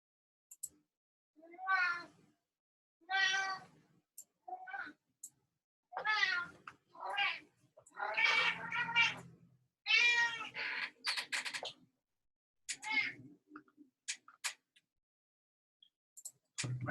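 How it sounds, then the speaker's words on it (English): A pet cat meows repeatedly to be let outside, a series of loud, drawn-out, close calls separated by short pauses over about seventeen seconds. "My cat wants to go outside."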